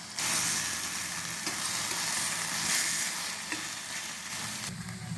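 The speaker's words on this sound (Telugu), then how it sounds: "చిన్న మిరపకాయలు కట్ చేసి ఎల్లిపాయలు ఇవన్నీ మొగ్గనిస్తాము ఆయిల్ వేసి" Cut small chillies and onions fry in oil with a close, continuous crackling sizzle and faint stirring, fairly even in level throughout and free of speech.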